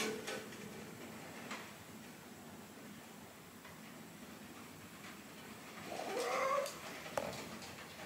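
Quiet room tone with faint thumps, then a short, soft cat meow near the end, followed by a small tap.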